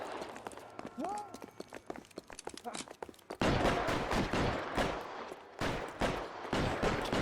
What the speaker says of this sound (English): Goddamn, they're shooting the fuck out of that store.